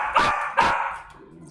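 A dog in a home kitchen gives two sharp barks in quick succession, close and fairly loud, followed by a faint trailing whine.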